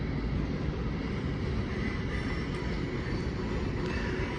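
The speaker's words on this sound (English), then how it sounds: "It's a long train. I still see it coming from down there." Long Union Pacific freight train approaching from a distance, a steady low rumble and roar that holds constant throughout, heard outdoors with no talking.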